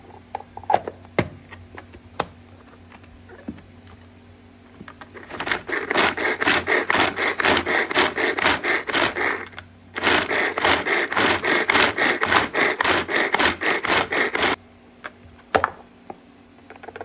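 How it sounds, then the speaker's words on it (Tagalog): A hand-cranked manual food grinder works through carrots and garlic with rapid rhythmic grinding and crunching, loud and close, in two long bursts separated by a short pause, with scattered clicks and knocks before and after. "Pinagsabay ko na nga palang i-grind yung carrots at yung bawang."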